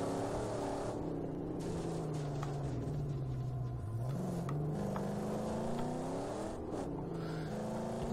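A vehicle drives in the video game Mad Max, its engine rumbling steadily with the pitch rising and falling as it revs and shifts, continuous and fairly close with no speech.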